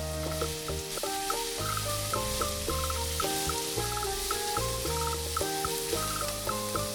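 Shrimp, sliced garlic and bell pepper sizzle continuously in butter or olive oil in a hot pan, a close, even crackle with faint stirring underneath and no talking.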